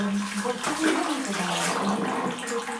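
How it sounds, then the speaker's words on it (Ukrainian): Freshly crushed homemade apple juice trickles from a juicer press, a continuous close watery flow with small splashy variations and a low background hum. "вже сок тече, сам по собі"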